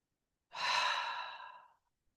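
A long breath drawn in through the nose, then released through a dropped jaw in one soft, breathy exhale that fades out over about a second, close and alone.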